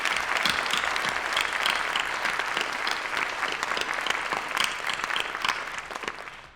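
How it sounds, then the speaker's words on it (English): A large audience at BEAR Day 2026 gives a sustained round of applause, many hands clapping evenly and fairly loudly for several seconds before tapering off near the end. "Let's give another round of applause to Megan, Sarah Latham."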